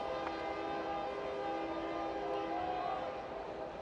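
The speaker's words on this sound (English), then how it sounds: "Long train horn in the distance." A long, steady train horn sounds in the distance during a college baseball game, its layered tones holding for several seconds over faint background murmur.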